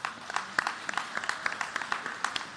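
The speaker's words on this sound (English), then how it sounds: "Let's give her a huge round of applause" Guests at a human rights celebration gala applaud an award recipient, with individual claps standing out against a lighter, moderately loud ovation.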